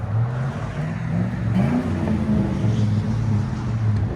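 A 2005 GMC Sierra pickup with a 5.3L V8 and Flowmaster Super 50 exhaust idles and revs gently, giving a steady, close, low rumbling drone.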